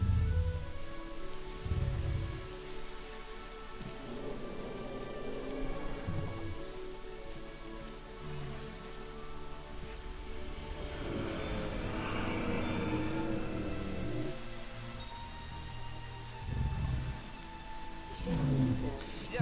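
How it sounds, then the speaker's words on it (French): Steady rain falls across a dinosaur park in the video game Jurassic World Evolution, a continuous hiss with low rumbling swells, while someone talks over it throughout. "Bon, il a pas de chance, il arrive sous la pluie."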